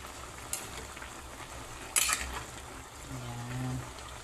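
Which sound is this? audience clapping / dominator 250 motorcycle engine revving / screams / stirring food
stirring food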